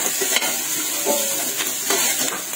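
Ginger, garlic, onion and squash sautéing in a pan, giving a steady close sizzle with a few scraping stirs from a utensil and faint pot clatter.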